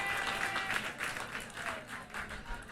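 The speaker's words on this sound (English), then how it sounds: "You could hear the reaction from the crowd" A crowd at a college softball game applauds a defensive play, a rippling, moderately distant burst of clapping that swells and fades over a few seconds.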